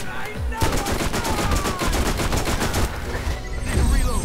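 Rapid automatic gunfire in Borderlands, a dense, loud, continuous burst of shots lasting throughout with brief pauses, no talk over it.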